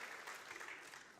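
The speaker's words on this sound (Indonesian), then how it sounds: "Ayo kita tepuk tangan yang meriah bagi Kristus Yesus Tuhan" A church congregation at an online worship service claps for Jesus Christ, a dense, steady burst of applause filling the whole short moment without any speech.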